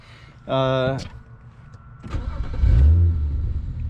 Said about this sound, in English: listen to the startup. Sounds great.